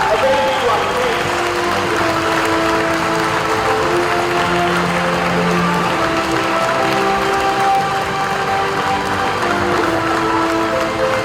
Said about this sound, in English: A big round of applause for the guests, please.